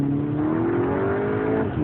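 A car with a DSG gearbox pulls hard in first gear, its engine note climbing steadily and loudly for nearly two seconds before dropping sharply at the upshift.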